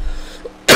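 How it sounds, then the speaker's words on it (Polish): A single sudden, loud cough bursts out near the end after a quiet stretch, from someone who is still sick, heard up close during a racing game commentary. "Że kaszlę na odcinkach"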